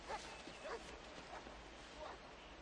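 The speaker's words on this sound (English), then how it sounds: "I thought I heard dogs barking." Dogs bark and yip faintly in the distance, several scattered barks buried under a steady noisy hiss.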